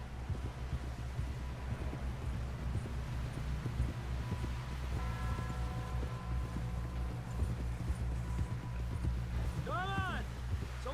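Horse hooves clip-clop in Red Dead Redemption 2, a quiet rhythmic trot running throughout beneath game music tones and voices talking.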